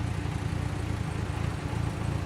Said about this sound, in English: Mitsubishi Starion, another great rally car. Makes some wonderful noises